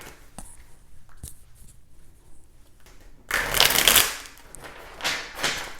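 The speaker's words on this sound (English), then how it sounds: "Get a nice, good shuffle for you." Tarot cards rustle and riffle close by in a burst of quick papery shuffling, preceded by a few light taps and handling sounds.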